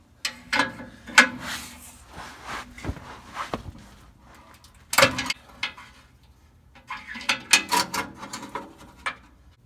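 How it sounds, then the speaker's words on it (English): Open-end wrench or O2 sensor socket working O2 sensors out of a truck exhaust, a few close metallic ratchet clicks and scrapes in short bursts separated by pauses. "We're going to be using a 7/8 open end wrench or an O2 sensor socket to remove them."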